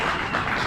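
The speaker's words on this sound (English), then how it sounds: "Can we give them a round of applause?" An audience at a self-reliance festival talk applauds, producing a short, dense burst of steady clapping.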